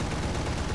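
Aircraft guns in the War Thunder air combat game fire a dense, rapid burst at an enemy plane, a loud continuous rattle of shots lasting under a second.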